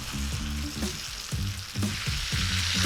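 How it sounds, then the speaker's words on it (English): Pork chops sizzling and searing inside a Gozney Dome oven, a steady close hiss of frying broken by several clinking, scraping knocks of a utensil against the cooking surface. "We've got a nice sear on the pork now."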